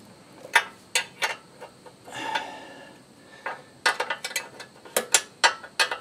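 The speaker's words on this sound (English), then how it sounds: "I have to loosen the axle just a little bit. A couple turns." Ratchet wrench loosening the axle on a Predator 212 mini bike with a CVT torque converter, close, loud bursts of rapid clicking separated by pauses, with a short metallic scrape in between and no talking.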